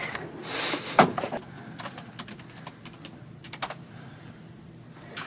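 Computer keyboard being typed on while logging into a supervisor's office computer, a short burst of clicky keystrokes with a louder tap near the start, fairly close and alone without talk.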